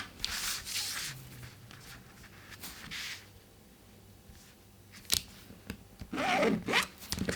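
Marker strokes drawing a line across waterproof fabric for a bike seat cover: a few soft, scratchy rubbing passes spaced apart, close and fairly quiet, with faint fabric handling between them and no talking.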